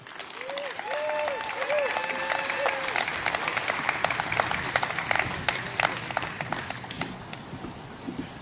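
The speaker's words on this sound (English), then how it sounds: "A big round of applause for our next speaker, Chairman Laura Sweat." A crowd at a groundbreaking ceremony breaks into sustained, lively applause for the next speaker, with a brief tonal sound at the start before the clapping dominates.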